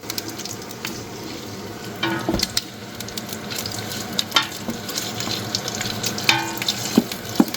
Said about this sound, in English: We're about 15 minutes into this and we are simmering this down.